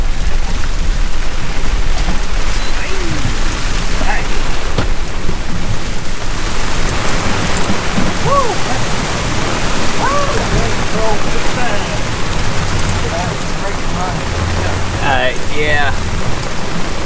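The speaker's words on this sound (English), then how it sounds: "It wasn't just rain, it was a full-blown storm" Heavy rainstorm pounding down at Keaton Beach, a dense, steady roar of rain filling the whole clip, with faint voices and scattered sharper sounds poking through the constant downpour.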